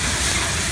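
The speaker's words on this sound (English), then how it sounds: "We're gonna add some white wine to the pan." White wine hitting a hot pan holding bacon and ham for carbonara, a loud steady hiss and sizzle of deglazing filling the short moment.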